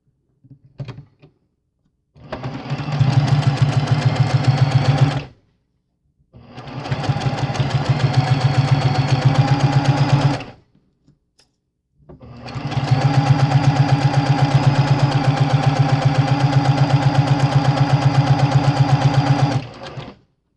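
A sewing machine stitches pieces onto a floss wallet in three sustained whirring runs separated by short pauses, close and fairly loud.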